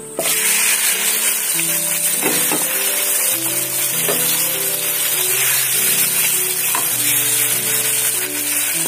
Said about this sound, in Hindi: यहाँ पे मेरा ऑयल गर्म हो चुका है। अब मैं इसमें चिकन ऐड करती हूँ।